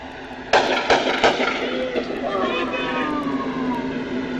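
Several gunshots crack out in quick succession during a police confrontation with an armed man, loud and close, followed by a lingering ring and a faint whine as the scene settles.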